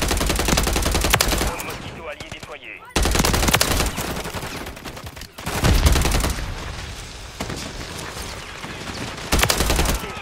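Automatic gunfire in Call of Duty Modern Warfare III, loud close bursts from a Striker weapon in rapid rattling volleys separated by short pauses, with game effects and some voice underneath.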